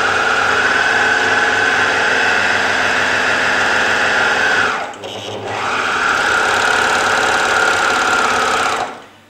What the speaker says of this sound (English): It's important to use a 3-thread overlock stitch and to remove just a small amount of the raw edge as you're sewing.